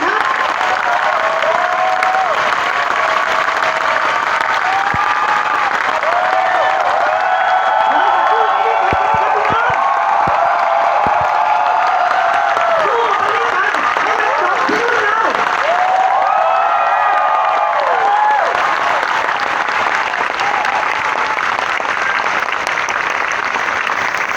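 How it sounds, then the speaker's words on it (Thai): A large crowd at a rally gives long, sustained applause, thick unbroken clapping mixed with cheers and whoops, while a voice carries on beneath the noise. "ขอเสียงปรบมือยาวๆ"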